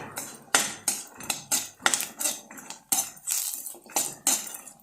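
Garlic frying in a pan for mandakki oggarane, heard as a rhythmic series of sharp spatula strikes and scrapes against the pan, about a dozen bursts, near and fairly loud, with no talking.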